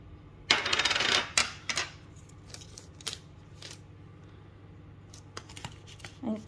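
Metal cookie cutters for sugar cookies handled and set down, giving a few sharp metallic clinks and rattles, one louder clatter early on and lighter taps after.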